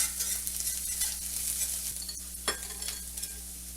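Garlic sautéing in a pan over medium-low heat, a soft continuous sizzle with faint occasional stirring clicks, close and fairly quiet with no voices.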